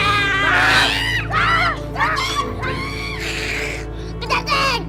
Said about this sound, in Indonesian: Ini gara-gara kucing, Jul.